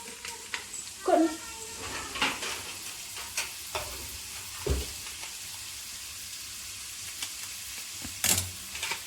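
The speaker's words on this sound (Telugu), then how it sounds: "ఇది కొంచెం గోల్డెన్ బ్రౌన్ వచ్చేంత వరకు ఫ్రై అవ్వాలన్నమాట" Ginger garlic paste frying in a pan for pav bhaji, a soft steady sizzle with occasional stirring scrapes and clinks, moderately close, with faint background noises.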